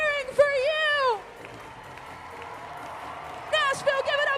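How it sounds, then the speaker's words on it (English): Crowd of tailgaters at a Nashville, Tennessee fan warm-up cheering and clapping, a steady wash of applause with whoops, punctuated by loud voices over it at start and end. "this whole crowd is cheering for you"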